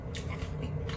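A close bite into a crispy puffed rice, pineapple and cucumber Asian salad, brief crunching and wet chewing over about a second.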